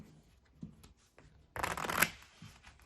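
Playing cards riffled together during a card trick: soft handling taps, then a close, crisp burst of shuffling that flutters for about half a second and trails off.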